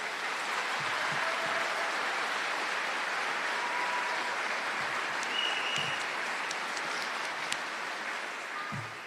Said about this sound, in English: So would you give your students another round of applause?